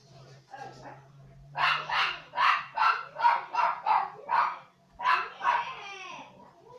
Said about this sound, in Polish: Przepraszam, przepraszam za psa.